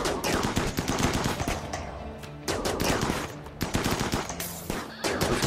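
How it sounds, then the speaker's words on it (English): Continuous rapid gunfire in the colony-building video game Rimworld during a firefight, dense overlapping bursts of shots with brief lulls, loud and busy throughout. "All the fire is going to Devo, which is good"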